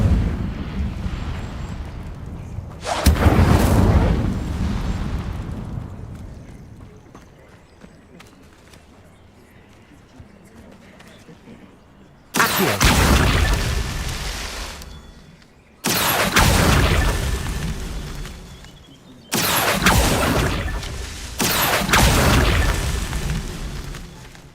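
Incendio fire spells blast in Hogwarts Legacy, with one loud burst followed later by a rapid series of booming bursts, each decaying into a rumbling tail against a quiet background.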